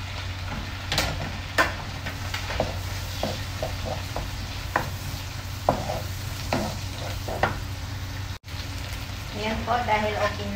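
Onion frying in a pan for a chicken dish, a steady sizzle with repeated sharp stirring scrapes and clinks of a utensil, close and fairly loud throughout.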